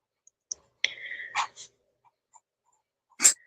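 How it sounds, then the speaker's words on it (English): A dog huffing at someone: short breathy puffs and snorts with a few small clicks, close and fairly quiet against an otherwise silent background. "Your dog just huffed at me"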